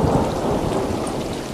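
Steady, loud thunderstorm ambience in the video game Stray: dense rain hiss under a continuous low rumble of thunder, with no voices.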